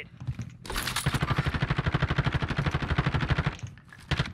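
Rapid automatic gunfire from a Call of Duty Warzone match, a dense sustained burst of about three seconds with a few separate shots before and after, loud and close with no talk over it.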